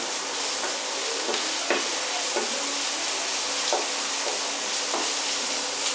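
Diced cooked ham stir-fried with vegetables in a pan makes a dense, continuous frying sizzle, with soft scraping stirs every second or so and no voices.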